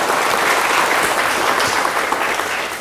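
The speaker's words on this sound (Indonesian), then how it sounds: "tepuk tangan ya buat kawan-kawan sekalian ya" Audience applause at a business seminar, a steady, loud wash of clapping from a crowd that carries on throughout and eases slightly at the end.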